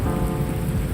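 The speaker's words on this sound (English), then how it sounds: "That's because of the rain. That's like the rain effects." Rain in a video game pours as a dense, steady wash of sound, loud and close with a low rumble beneath, unbroken through the short moment.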